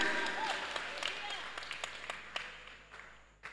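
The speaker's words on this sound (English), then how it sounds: "clap your hands and give him praise to the glory of his holy name" A church congregation claps hands in praise during a service, scattered clapping fading over a few seconds with distinct sharp claps standing out toward the end, amid faint voices.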